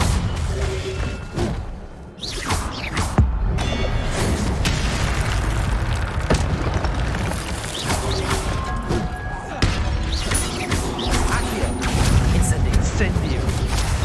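Spell-casting effects from the Hogwarts Legacy video game, a dense run of booming, crashing fire-spell blasts and impacts layered over continuous game sound, loud and close, with a voice speaking at times.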